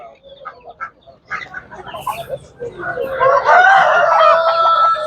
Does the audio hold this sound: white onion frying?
no